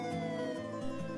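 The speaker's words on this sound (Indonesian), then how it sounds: "sehingga suara yang terdengar semakin kencang seiring dengan mendekatinya mobil ambulan tersebut" Ambulance siren heard close and steady, a continuous tonal wail with layered harmonics and a slight pitch shift near the end, with no voices.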